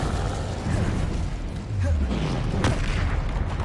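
The Incendio fire spell is cast in Hogwarts Legacy on PS5, a dense whooshing burst of flame with a low rumbling boom over continuous game ambience.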